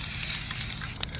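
A spray paint can hisses in a steady, continuous broadband spray as an object is coated from all angles, close and fairly loud, ending with a couple of faint clicks.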